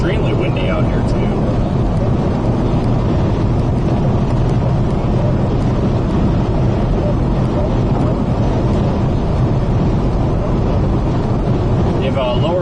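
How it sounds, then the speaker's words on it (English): Strong wind roars during a Texas hailstorm chase, a loud, constant buffeting rumble battering the microphone for the whole stretch with no letup. "Extremely windy out here, too."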